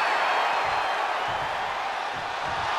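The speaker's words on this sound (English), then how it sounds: "The sound of this crowd is deafening, and he's asking for more." Loud, dense arena crowd at a pro wrestling eight-man tag match, a steady roaring wash of cheering that holds throughout with no break.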